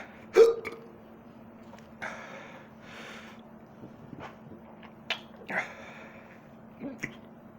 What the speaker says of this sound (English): I got the hiccups already.